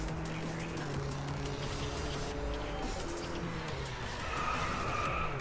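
Car in DriveClub racing game skidding, a continuous rough tire scrub and engine noise at moderate level throughout, with brief squeal-like tones near the end; a distinct collision impact is not clearly audible.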